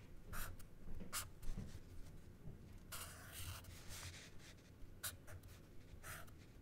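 A Sharpie marker writes on paper in quick soft squeaky strokes, several short bursts with pauses between them, close and quiet with no talking.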